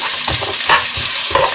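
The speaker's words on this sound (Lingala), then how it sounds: "oignon na ngai na mafuta lolenge oyo" Onion frying in oil in a pan while it is stirred, giving a steady sizzle with repeated scraping strokes of the utensil, close and fairly loud, with no voices.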